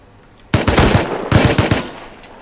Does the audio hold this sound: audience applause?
no